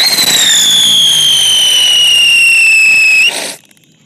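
A chakri spinning firecracker burns with a loud, sustained whistling hiss that glides slowly downward, then cuts off abruptly near the end, with no voices.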